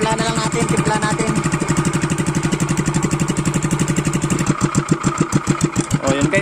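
A Loncin 7HP small engine runs close and loud, its rapid steady firing pulses settling into a choppier, uneven idle near the end.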